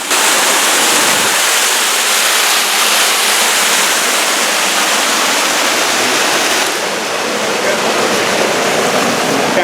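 River water rushes steadily over rocks near the San Gabriel waterfalls, a loud, continuous roar filling the whole stretch with no letup.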